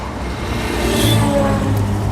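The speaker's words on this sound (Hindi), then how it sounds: "तो ये गाड़ियाँ निकल रही हैं।" Steady wash of road traffic from cars passing on a highway, a continuous mid-loud whoosh and engine hum that swells slightly in the middle, with no voices.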